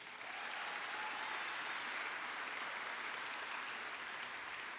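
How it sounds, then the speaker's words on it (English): A large crowd of high school graduates and guests applauds at a graduation ceremony, a dense, even roar of clapping that holds steady throughout, heard from some distance. "Give yourself a round of applause"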